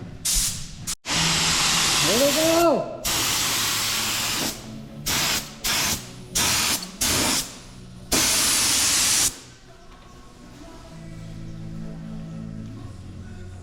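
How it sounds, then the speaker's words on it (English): A spray gun sprays clear coat on a Caprice in loud hissing bursts of varying length, starting and stopping repeatedly, close up; a voice calls out briefly before a quieter mechanical hum remains. "The gun's ready. We're spraying."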